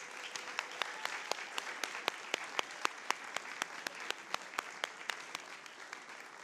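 Board of education meeting audience applauding tenure recipients, a moderately quiet, even patter of many hands with a regular rhythm of crisp claps punctuating it throughout.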